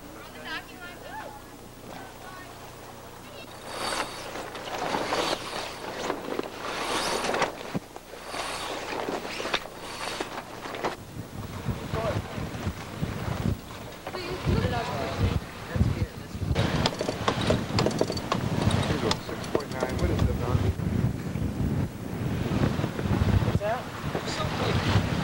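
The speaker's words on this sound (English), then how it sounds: "At about 10, we sail for our next island anchorage." A sailboat under way on the Caribbean Sea, with strong wind buffeting the microphone and water rushing along the hull, loud and continuous, building in intensity over time.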